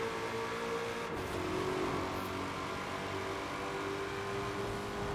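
A 2020 Ford Mustang Shelby GT500 in Forza Horizon 4 holds a steady, loud high-speed engine drone at sustained revs for several seconds, with no speech.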